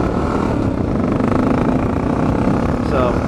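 A Honda XR650L fitted with a ram-air cooling setup idles steadily nearby in warm weather, making a continuous low thrum. Someone talks over the engine.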